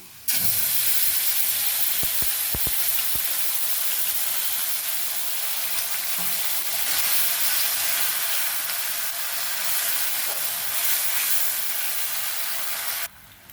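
Whole garam masala spices, chilli, ginger, garlic and half an onion hit hot oil in a kadhai (wok) and burst into a loud, sustained, steamy sizzle. It begins with a few clatters, then runs steadily for over twelve seconds before cutting off, with no voices.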